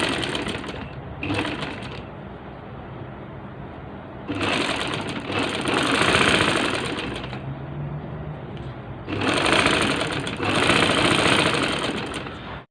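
A sewing machine stitches a ladies' shirt in loud, close bursts: two short runs, then two long steady runs separated by quieter pauses, with no talking.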